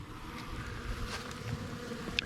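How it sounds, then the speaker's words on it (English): Bees buzz in a close, steady drone, a dense swarm humming continuously with a few sharper wingbeats passing near. "I don't know what this cluster of bees is doing here."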